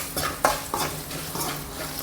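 Chilli powder, turmeric and green chilli stirred together in a pan for a flattened-rice snack mix: soft scraping strokes of a spoon against the pan with a few light clinks, moderately quiet and close, no talking.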